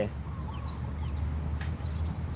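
Chickens cluck softly in the background, with short scattered calls over a steady outdoor murmur and faint voices nearby.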